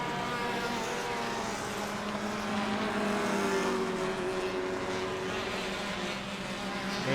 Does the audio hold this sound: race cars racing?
yes